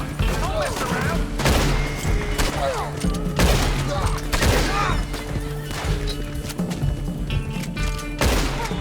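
Gunfire in Red Dead Redemption 2, a rapid fusillade of loud shots and heavy thuds repeating across the whole stretch, with scattered bursts overlapping.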